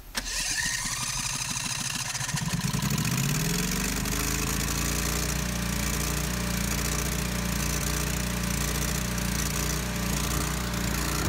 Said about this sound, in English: When I first started up the generator, I could tell that there were some exhaust leaks to fix.